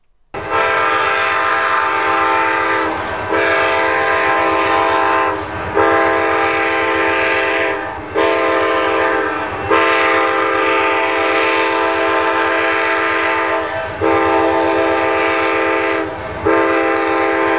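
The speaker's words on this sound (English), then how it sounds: "we'd soon be back aboard the Sunset Limited, heading toward Los Angeles." The Amtrak Sunset Limited passenger train runs steadily, with a loud rumble and wheel noise throughout, and a horn sounds in repeated long blasts broken by brief gaps.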